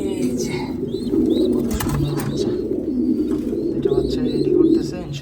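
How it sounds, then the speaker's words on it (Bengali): Pigeons in a crowded loft coo and call in a steady low murmur throughout, with a few brighter chirps from young birds, while someone talks over the birds. "অনেকগুলো কবুতরই এর মাঝে আরও কিছু কবুতর দেখা যায়"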